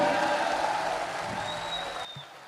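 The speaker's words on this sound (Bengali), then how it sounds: "সকলে করতালি দিয়ে তিনাকে স্বাগত জানাবেন।" A crowd claps at an ISF political rally in Bhangar. The applause starts loud and dense, then gradually thins and fades over about two seconds.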